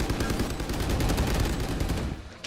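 Rapid automatic gunfire rattles through a wall in a Valorant esports match, a dense, continuous burst of shots lasting a couple of seconds.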